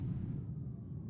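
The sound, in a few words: speaker imitating a loud gasp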